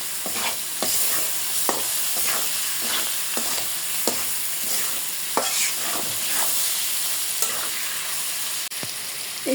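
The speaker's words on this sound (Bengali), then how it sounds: "একটু নাড়াচাড়া করে পরে মাছ দিয়ে দেবো।" Tomatoes and green chillies fry in a pan for a river fish curry, with a loud, steady sizzle broken by repeated scraping strokes of a spoon stirring, and no voices.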